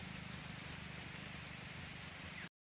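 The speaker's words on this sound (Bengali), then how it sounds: "বৃষ্টি শুরু হয়ে গেছে" Rain begins falling outdoors in a natural setting as a faint, steady patter with a soft rhythmic texture, and no voices are heard.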